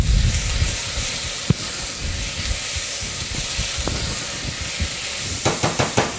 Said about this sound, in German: Karotte dazu, Lauch dazu und den Knoblauch. Schwitzen das Ganze an.